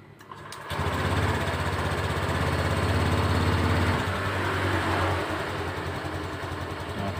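A Honda Beat scooter engine starts up after a brief click and settles into a steady, buzzing idle with a slight dip partway through, close and continuous with no talking.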